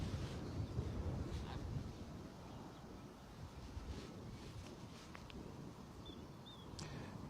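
Gusty wind buffeting a microphone outdoors at Bristol Airport, a steady low rumble throughout with small rises and falls and no clear other sounds above it.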